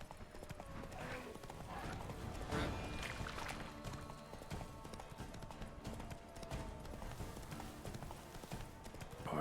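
Roach, the horse in The Witcher video game, gallops with a fast, steady clip-clop of hooves that stays loud and close throughout, layered over dense game ambience.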